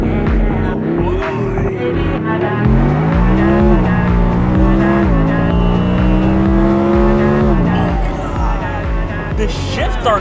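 An Audi sports car accelerates hard under launch, its aggressive exhaust roaring loud and close as the engine pitch climbs through the gears with brief dips at each shift.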